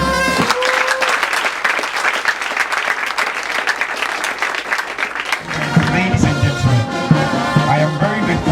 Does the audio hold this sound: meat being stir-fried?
no